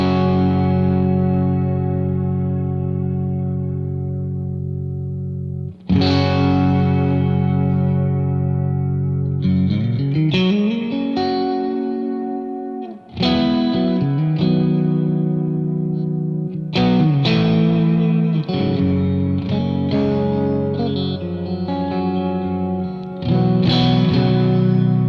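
Electric guitar played through a Keeley Hydra pedal on a sweet, ambient plate reverb setting, sustained chords and single notes blooming into long, shimmering tails, loud and close with a few pauses between phrases.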